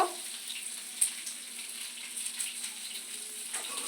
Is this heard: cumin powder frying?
yes